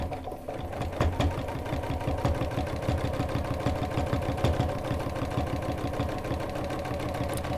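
A sewing machine fitted with a walking foot quilts a cross-hatch line, running a continuous fast mechanical chatter with a busy rhythmic clatter, steady and close, with no talking.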